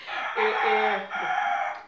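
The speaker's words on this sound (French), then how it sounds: "il y a le coq qui n'arrête pas de chanter" A rooster crows among a flock of chickens, one full loud call nearby with a sustained drawn-out middle and trailing end, and faint background noise.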